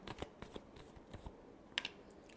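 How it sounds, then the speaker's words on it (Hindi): Tarot cards shuffled by hand in a quiet room, a few soft riffling bursts and taps with one sharper double flick near the end, faint and close, no talking. "last shuffle,"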